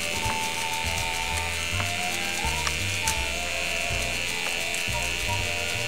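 An electric Clipp-Aid sharpener buzzes steadily as it sharpens hair clipper blades, a close, continuous motorized hum with faint rattling ticks, alone without talk.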